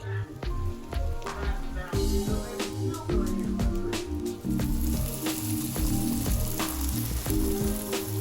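Beyond Beef slider patties topped with cheese sizzle and fry steadily in a cast iron skillet, a dense continuous crackle with scattered sharper pops, close and fairly loud, with no talking.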